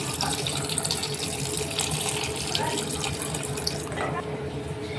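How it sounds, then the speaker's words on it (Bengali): Water pours steadily into a cooking pan while making a shrimp curry, a continuous splashing stream running for several seconds at close range. "দিয়ে দেব পর্যাপ্ত পরিমাণে পানি"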